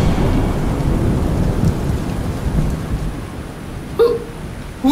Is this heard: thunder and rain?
yes